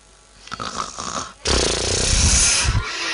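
A voice imitates a man's loud snoring: a lighter nasal breath leads into a long, harsh, rattling snore that swells and holds, close and alone with no other talk.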